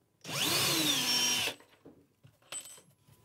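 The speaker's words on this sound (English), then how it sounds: "So drilling a hole" A power drill bores a hole into a base panel while a frame fitting is assembled for a wall unit: one loud, steady whir of about a second that rises slightly in pitch, followed by faint handling clatter.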